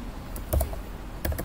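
Two short bursts of computer keyboard keystrokes, close and quiet, as Java code is typed, with a pause between the bursts.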